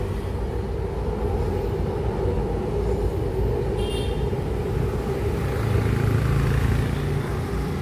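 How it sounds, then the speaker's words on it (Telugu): Low, steady rumble of a train rolling in, continuous and fairly loud, with a brief faint squeal near the middle. "మన ట్రైన్ అయితే వచ్చేసింది"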